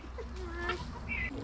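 Hens on a Moravian farm clucking as they are fed, several short overlapping clucks and squawks from nearby birds over a low background rumble.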